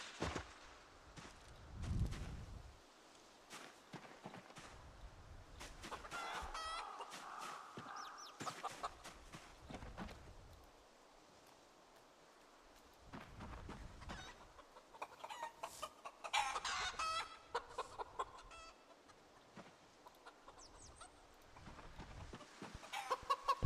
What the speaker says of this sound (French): Le coq est là-bas.